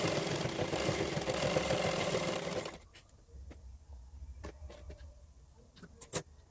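A sewing machine runs steadily and loudly while stitching a blouse lining for a size 34 blouse with four tucks, then stops, leaving faint clicks and fabric handling nearby.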